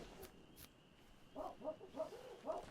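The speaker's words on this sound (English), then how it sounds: "Dog is barking." A dog barks in a survival tribe-building video game, four quick barks in a row at moderate distance, following a couple of faint sharp ticks.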